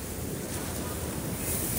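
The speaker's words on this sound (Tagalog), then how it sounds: "Dito kami sa tabing dagat ng Paknotan. Barrio Pandan. Barangay Pandan. Maalon." Waves break along the seashore at Paknotan in Barangay Pandan, a brief, steady wash of rough surf mixed with heavy wind buffeting on the microphone.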